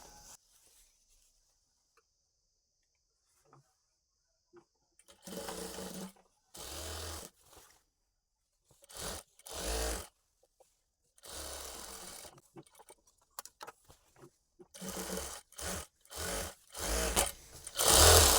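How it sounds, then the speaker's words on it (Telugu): A sewing machine stitches the side seams of a half-collar uniform dress with a side pocket, running in repeated loud bursts of one to two seconds with short pauses between them, close up and without any speech. "ఇలా సైడ్ స్టిచ్చెస్ వేసుకునేటప్పుడు పైన నుంచి 1/2 ఇంచ్ వెడల్పుతో స్టిచ్ చేసుకుంటూ రావాలి."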